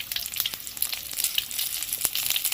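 Potatoes and radish fry in a hot pan with a dense, bright sizzle and crackle, steady and close throughout, with occasional stirring scrapes.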